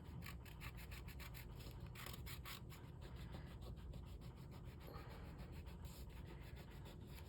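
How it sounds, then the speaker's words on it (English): Steady rubbing over a craft banner for a snowman door hanger, a continuous dry scraping texture with small rhythmic strokes, close and fairly quiet, no talking. "And then I just kind of rub over it"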